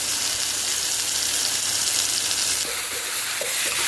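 Eggplant stir-fried with oyster sauce in a pan, sizzling loudly and steadily throughout, with a brighter hiss surging near the end and light scraping from stirring.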